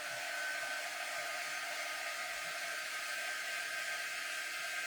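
A hair dryer blows continuously at close range to dry paint on a broom, a steady loud airy whoosh with a faint motor whine and no pauses.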